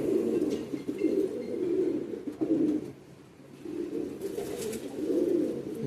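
A female Akash pigeon coos in a loft, a series of about six soft, rolling low calls that come in regular swells with short gaps between them, close and fairly quiet, with no voices.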